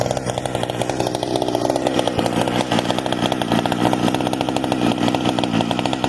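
A Sachs Dolmar 110 with a muffler mod or a Husqvarna 460 fitted with a bigger carburetor runs continuously at high revs, loud and close, a steady raspy two-stroke buzz with rapid pulsing and no talking.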